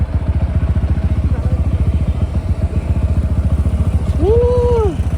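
A motorcycle rumbles with a fast, regular engine throb close by during a ride. Near the end a brief rising and falling whine cuts in over the engine.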